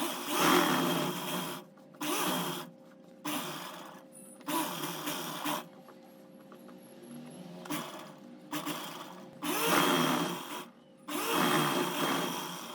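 A sewing machine stitches the crotch seam of a garment in a series of short whirring runs of roughly a second each, separated by brief pauses, close and moderately loud.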